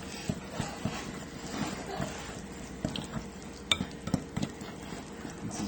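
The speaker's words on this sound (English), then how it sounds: "now you just gotta whisk it together" Cupcake batter for root beer float cupcakes being whisked by hand in a bowl, a steady run of soft, quick clinks and taps from the whisk against the bowl, fairly quiet and close.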